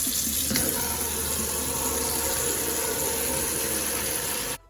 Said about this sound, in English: we are going to fill my plastic bowl here full of water